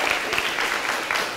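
Audience applause for a performer at a school slam poetry reading: brief burst of dense, steady clapping from a crowd, moderately loud and close.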